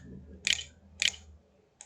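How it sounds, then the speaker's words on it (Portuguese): Keys on a computer keyboard are pressed one at a time during a typing lesson, three crisp, evenly spaced clicks in near quiet. "Vamos digitar agora uma frase aqui."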